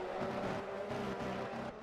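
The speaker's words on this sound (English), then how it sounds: "So out the pits comes Kai into P12" An F1 race car in a racing video game accelerates out of the pits at Baku, its engine whining loudly and shifting through gears in rising sweeps.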